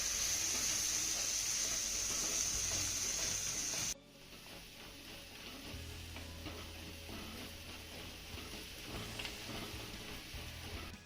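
Ground spice paste with cumin fries in a pan, a loud bright sizzle that drops abruptly to a softer crackling hiss with light scraping and stirring, no voices.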